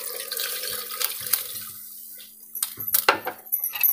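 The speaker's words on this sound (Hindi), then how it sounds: "अब मैं इसमें डाल दूँगी 1 मग के करीब पानी।" Water splashes and gurgles as about a mug of it is poured into a pot of carrot and mutton curry, in uneven bursts with a quieter pause in the middle.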